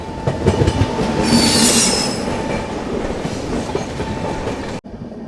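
The Tuticorin Express rolls through KSR Bengaluru station, a loud close rumble of wagons with high wheel squeal rising partway through, before cutting off abruptly near the end.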